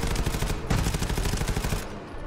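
Rapid automatic gunfire in the co-op shooter GTFO, a dense run of loud close shots with a brief break near the middle before the burst resumes, then ending abruptly.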